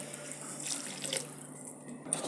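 Water pours into a cooking pot of chicken gravy thickened with sun-dried rice flour, a faint soft splashing stream lasting a couple of seconds, with no voices.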